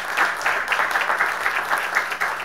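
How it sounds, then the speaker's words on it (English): Audience at an Imperial Beach city council meeting applauding the sheriffs, a steady patter of hand claps from a modest crowd in a meeting room, with no voices over it. "Can we give the sheriffs a round of applause?"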